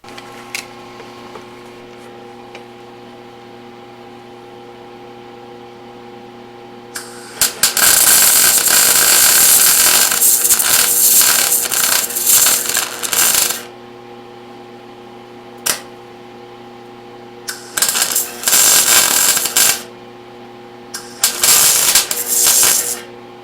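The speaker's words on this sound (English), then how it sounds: "let's turn on the welder" Welding a steering column in place: a long crackling, hissing burst of about six seconds, then two shorter bursts a few seconds apart, all close and loud over a steady background hum.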